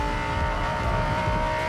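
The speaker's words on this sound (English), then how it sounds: "Oh, the engine sound. Now that is one angry beat." Lamborghini engine revving in the racing video game Racing Master, a loud continuous roaring drone with no pauses.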